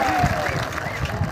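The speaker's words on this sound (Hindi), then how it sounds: "हंसो के लिए भी ताली मारो।" A crowd claps and cheers at a political rally in Tripura, brief loud applause mixed with voices and crowd noise.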